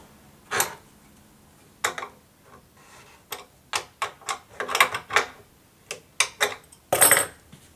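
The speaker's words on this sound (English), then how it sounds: "We just give another couple of turns to these bolts." Bolts being tightened on a clamping jig holding glued segmented drum-shell rings, giving a string of separate sharp metallic clicks and ticks at irregular intervals, close and fairly loud, with no talk.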